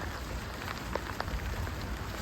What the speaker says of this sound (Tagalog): Naulan na guys. Nakulog na.